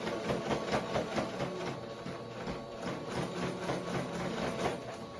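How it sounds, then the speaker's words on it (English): A sewing machine stitches around the whole edge of a piece of fabric, giving a steady mechanical whirr with rhythmic needle pulses that runs continuously and moderately loud throughout, with no talking. "We got to sew literally around the whole entire thing."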